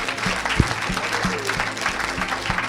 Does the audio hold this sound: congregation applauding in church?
yes